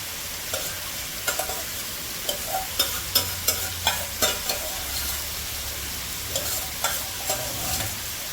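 Chicken curry with tomatoes and tomato puree is stirred in a frying pan, with repeated scraping strokes of the spoon over a steady low sizzle and no talking.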